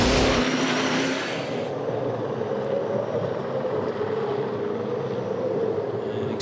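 A V8 Supercar from the 2010 Sydney 500 race is heard from a distance as it drives on through a slow corner with residual throttle. A loud roar at the start fades into a steady, distant engine drone.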